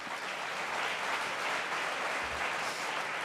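A large audience at a Geneva sports awards night claps for an honoree, a thick, continuous roar of applause that fills the hall at full strength throughout.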